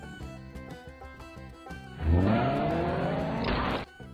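Film car chase: music with rhythmic hits plays, then an engine revs up hard with a roaring acceleration and tire noise for about two seconds before cutting off abruptly, no talk.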